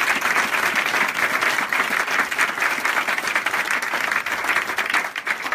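A congregation at a prayer meeting bursts into sustained applause, dense overlapping clapping that holds steady for several seconds before thinning slightly at the end.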